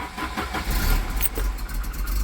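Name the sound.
Volvo 740 car engine starting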